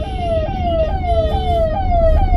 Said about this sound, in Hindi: एम्बुलेंस आ रही है पीछे, मैं उसको पहले साइड दे दूं।